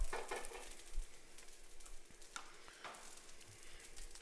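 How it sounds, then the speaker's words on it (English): Garlic and vegetables frying in a pan for keto fried rice, with a faint, steady sizzle and crackle under scattered soft stirring taps and scrapes, close but quiet, with no talking. "I think it's time to add some veggies and some garlic"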